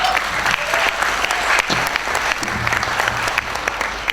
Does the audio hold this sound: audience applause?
yes